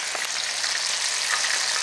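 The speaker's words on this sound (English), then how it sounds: "we just dropped the first batch of the pancake mix and the fish fry" Gar fish balls coated in pancake mix and fish fry batter sizzle in hot oil, a dense, even crackling hiss that fills the whole stretch without pause.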